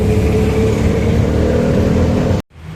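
An auto rickshaw's small engine drones loudly from up close with a rough, pulsing rattle as the ride gets going, before the sound cuts off abruptly.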